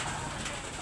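Pigeons in a loft give a soft, brief coo at low level, close but faint against a quiet room background.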